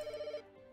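A telephone rings in the pet hotel management game Pets Hotel, a short electronic ring with steady tonal pulses that fades after about half a second.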